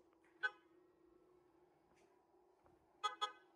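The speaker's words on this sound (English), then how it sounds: "there's no horn on this car, as far as we can tell. It just uses the speaker really loudly." Tesla Model 3 Highland sounding its horn through the small external pedestrian speaker instead of a conventional horn: a short tone, then two quick toots close together, fairly quiet against a steady low hum.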